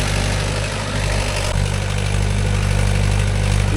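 A Mahindra 575 DI tractor's diesel engine runs steadily at idle, its low, even throb continuous and close with no voices over it.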